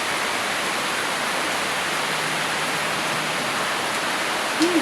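Steady, dense hiss of heavy rain pouring down, constant and close throughout, with a brief faint tone near the end.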